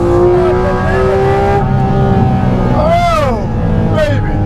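Porsche GT3 RS or GT4 RS engine revving high, a loud sustained howl with rising and falling pitch sweeps as the revs climb and drop, heard from inside the car.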